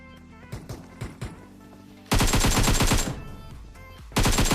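Gunfire in a battle royale video game: a few scattered single shots, then loud, dense bursts of rapid automatic fire, a short pause, and another burst.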